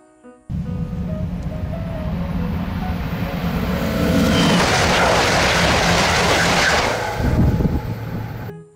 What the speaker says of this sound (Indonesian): High speed train, kereta cepat.